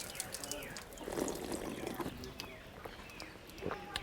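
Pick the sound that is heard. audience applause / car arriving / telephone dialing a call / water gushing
water gushing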